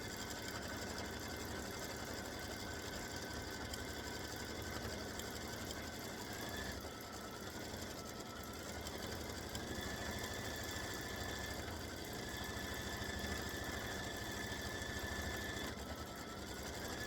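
A sewing machine runs steadily while stitching an edge-to-edge quilt pattern, a continuous close mechanical whir with a rapid needle rhythm that holds nearly constant throughout, with only slight shifts in pitch.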